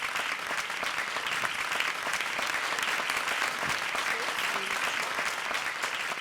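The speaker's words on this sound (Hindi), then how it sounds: "I think they all deserve another huge round of applause, and our 3 special judges" Sustained applause fills a hall at a stage event honouring couples and three special judges, steady and dense throughout with crowd noise underneath.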